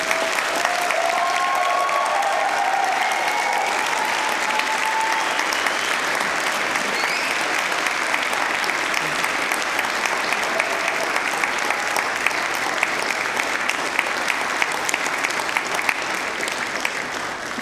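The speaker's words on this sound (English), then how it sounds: "can you give them a really, really big round of applause?" Graduation ceremony audience applauding at the University of Manchester, a loud, dense and sustained roar of many hands clapping that holds steady throughout with no pause.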